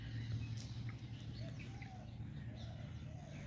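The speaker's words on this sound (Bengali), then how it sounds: "গাইজ দেখা যাচ্ছে সবগুলো পায়রা উঠছে। অনেক দিন পর পায়রা উড়াচ্ছি।" A flock of domestic pigeons released to fly outdoors, giving faint, scattered coos and chirps over a steady low hum, heard from some distance.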